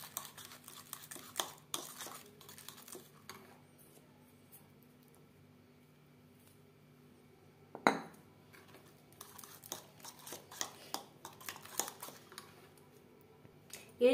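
Flour is stirred into eggless fruit cake batter sweetened with nolen gur in a bowl, with soft, intermittent scrapes and clinks of a utensil and one sharper knock partway through, all fairly quiet.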